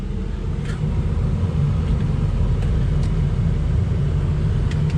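A 2004 Ford F350 dually diesel 4x4 in four-wheel-drive low gives off a steady, deep rumbling engine drone with a few faint clicks over it, close and continuous.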